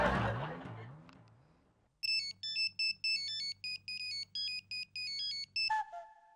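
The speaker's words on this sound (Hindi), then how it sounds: "अपने उस रॉकी को फोन करके उसकी नींद हराम करो।" A mobile phone ringtone plays a bright, repeating melodic pattern of short electronic beeps in rhythmic bursts, loud and close, after a voice at the start trails off.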